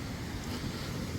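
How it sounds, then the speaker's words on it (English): A waterfall near a roadside castle gives a steady broadband rush outdoors, heard as a constant roar throughout with no talk. "we've got this nice waterfall here"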